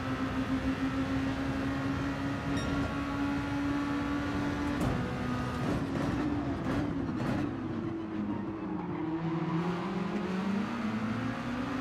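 A car engine droning steadily in a Gran Turismo 7 race, one continuous tone that eases and shifts pitch as the throttle lifts, with brief tyre or mechanical noise partway through.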